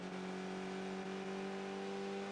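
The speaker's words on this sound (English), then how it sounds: "Yeah, that car is not sounding right." A damaged kart engine in a Sebring round of a racing video game, droning steadily with a rough, wrong-sounding hum, loud and continuous with no voices over it.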